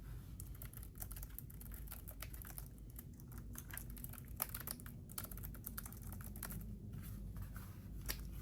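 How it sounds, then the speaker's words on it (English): Bluetooth computer keyboard typed on steadily, a dense run of soft, close key clicks and taps over a faint background hiss, with no voices. "I do like the way that these keys sound and feel when I type"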